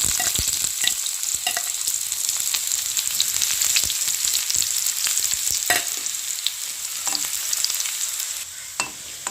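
Chopped small shallots fry in a couple of tablespoons of hot coconut oil, giving a loud, continuous close-up sizzle with frequent crackling pops and occasional stirring scrapes.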